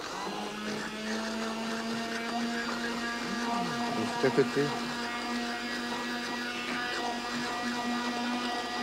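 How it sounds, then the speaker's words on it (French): A kitchen blender whirs steadily as it chops herbs, garlic and shallot, a constant mid-pitched motor drone that keeps going under someone speaking French. "quand vous pouvez donner un petit coup de mixeur pour broyer un peu plus les légumes"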